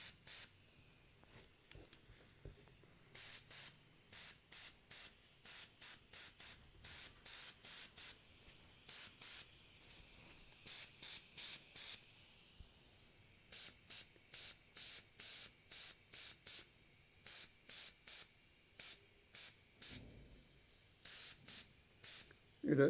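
A spray can hisses onto a poster colour painting in many short, evenly spaced bursts, close and steady, with brief pauses between groups of sprays.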